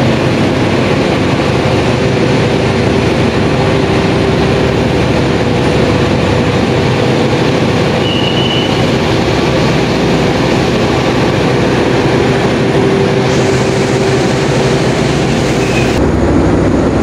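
Argo Merbabu passenger train being shunted onto track 5 at Cirebon station, a loud, continuous rumbling rail roar with steady wheel noise and faint squeals throughout.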